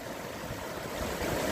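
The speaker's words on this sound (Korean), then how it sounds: "저 물소리, 저 물의 노래소리" Flowing water of a stream, a steady broadband rush that is even and unbroken throughout and grows slightly louder toward the end.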